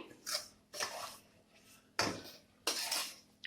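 Semolina being stirred into hot ghee in a pan for sheera, a spoon scraping and rasping against the metal in four separate strokes, close and fairly quiet, with no talking.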